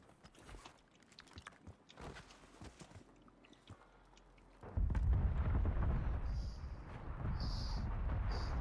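Cluster explosions hit a road in a first-person shooter, starting as scattered sharp cracks and then building into a sustained heavy roar of rolling blasts up close, with faint chirping game tones above.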